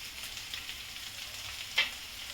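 Salt and turmeric powder roasting in a pan make a soft, continuous frying hiss, with one brief utensil scrape near the end.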